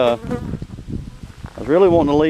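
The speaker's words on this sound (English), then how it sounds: "lot of bees around the entrance of this box, a lot more than we had" Dense buzzing of a honeybee swarm clustered around the entrance of a hive box outdoors, a steady near hum with rising and falling pitch that swells loudly toward the end.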